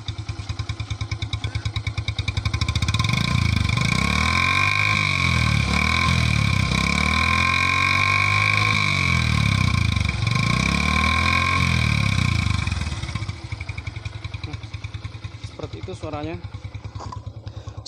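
A motorcycle with a cut-down Byson exhaust revs hard and close. Its loud, raspy roar rises and falls in repeated throttle sweeps, then settles back toward a rough, popping idle.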